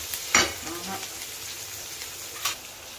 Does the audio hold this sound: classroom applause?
no